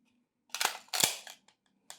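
A magazine for a CZ TS 2 Blue competition pistol, a CZ P10F-type mag, clicks and locks into the grip in a few short, close, sharp metallic snaps, then a faint click after a pause.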